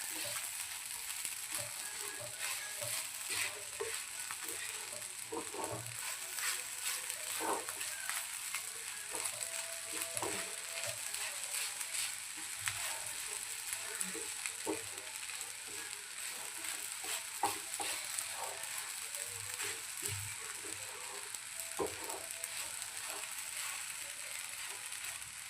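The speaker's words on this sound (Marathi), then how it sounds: "आता आपण मी लगेच याला खोलून एकदा परत आपण याला मिक्स करून घेऊया छानपैकी." A spoon stirs small sago pearl khichdi in a pan, a steady frying sizzle with repeated light scraping and clinking strokes throughout, close and moderately loud, with no talking.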